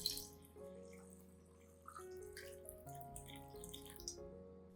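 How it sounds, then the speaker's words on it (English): Water trickles and drips faintly into an organic fertilizer solution, with soft gurgles over a quiet backdrop of steady background music tones. "Dilute this solution with 2 liters of water."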